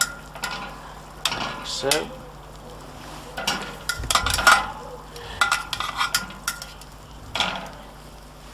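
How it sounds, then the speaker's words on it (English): Tomatoes being stirred and coated in hot oil in a pot over a kamado barbecue give soft intermittent scraping and faint sizzling, with a brief spoken comment. "we're going to go in with the tomatoes. And we're going to coat these in the oil"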